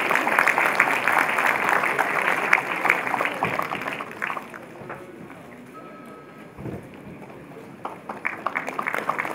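Audience applause greeting honoured guests at a journalists' award ceremony at Dr Ambedkar International Centre, New Delhi: dense, steady clapping for about four seconds, then thinning into scattered claps and murmur before a fresh burst.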